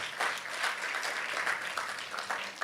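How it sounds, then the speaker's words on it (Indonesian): A church congregation claps together in steady, dense applause, moderately loud and sustained throughout. "Kasih tepuk tangan buat kemuliaan nama Tuhan"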